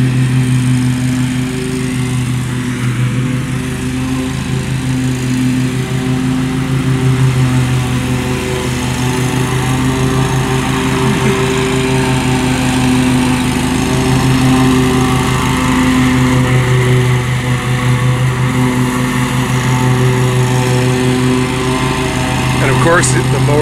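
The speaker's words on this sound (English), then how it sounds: "Ride the mower, cut some grass." Riding lawn mower with its deck set all the way down cutting grass, a loud steady engine drone with constant tonal hum running unbroken throughout, close by.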